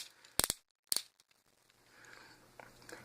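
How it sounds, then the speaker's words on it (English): Ratchet elbow joints on a Generations Sandstorm transforming toy click sharply, two bright clusters of quick clacks close by, followed by softer faint handling rustles. "Nice clicky clacky ratchet joints in the elbows."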